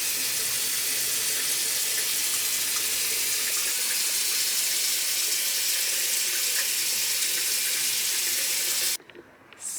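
Water runs steadily from a tap into a sink to rinse off a face mask, a close, even hiss that stops abruptly near the end.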